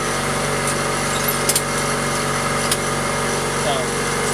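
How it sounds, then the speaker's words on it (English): A steady mechanical motor drone runs throughout, loud and close, with a couple of brief clicks partway through. "So, still makes a lot of noise, you can hear it,"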